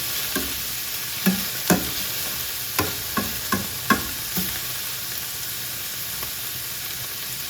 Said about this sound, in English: our onion and green peppers are starting to cook a bit